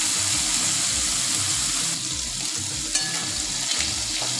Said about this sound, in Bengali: চিংড়ি মাছ বেশি ভাজতে হয় না, অল্প ভাজলে হয়ে যায়।